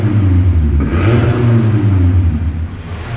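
A Toyota Corolla GLI 2.0 fitted with a sport exhaust diffuser revs hard, giving a loud, close, deep growling drone that swells once and then holds steady.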